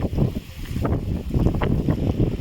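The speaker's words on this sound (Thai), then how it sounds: "ลมแรงมากค่ะ ลมแรงมาก" Strong wind buffets the microphone at Three Whale Rock, a rocky outcrop in Bueng Kan, Thailand, as low roaring gusts rise and fall close up with no voices.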